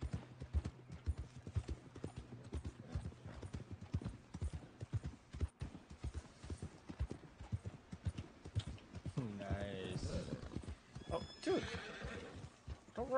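A horse gallops with steady clip-clop hoofbeats and then neighs loudly in the video game Red Dead Redemption 2, with a voice talking over the game sounds at times.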